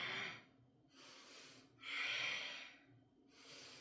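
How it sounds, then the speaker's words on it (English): Forceful breaths during a core workout, three loud airy exhales through the mouth spaced about a second apart with quieter pauses between, close to the microphone. "Let me hear your exhale."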